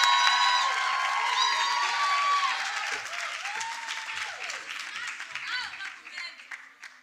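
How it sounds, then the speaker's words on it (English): A conference audience applauds with dense, steady clapping and some scattered voices, loud at first and then gradually thinning and fading. "Please let's clap hands for Mandisa."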